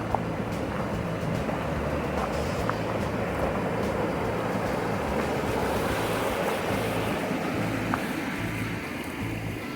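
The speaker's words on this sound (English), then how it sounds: "Look at all that water coming through there." Water from the spring at Alley Spring in the Ozarks rushes continuously past the old water-powered mill, a dense, steady roar with no voices.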